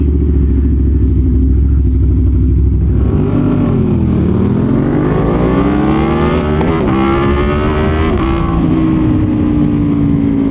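An Aprilia Tuono V4 1100 Factory sport motorcycle's modified exhaust roars close and loud, idling low before the engine revs up through rising and falling pitches, with no talking.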